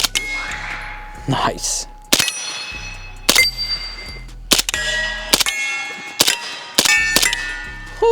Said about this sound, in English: I'm gonna try to go for the gong, like 100 yards.